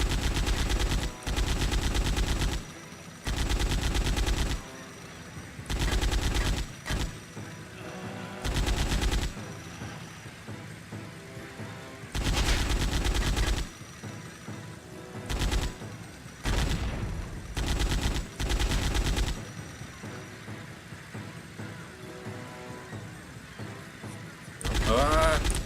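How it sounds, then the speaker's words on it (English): Gunfire from a weapon in Land of the Dead: Road to Fiddler's Green comes in repeated loud bursts of rapid automatic shots, separated by short pauses. "I've got infinite ammo in this gun."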